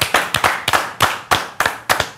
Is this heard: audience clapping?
yes